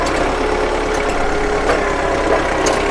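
Used Kubota L4508 tractor from a 2008 model year, engine idling steadily and loud up close, a constant diesel rumble with no talking.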